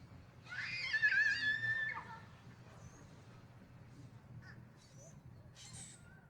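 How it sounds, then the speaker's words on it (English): A crow caws loudly a couple of times outside lodge cabins beside a lake, followed by faint distant bird calls over a quiet outdoor hush. "the birds you can hear."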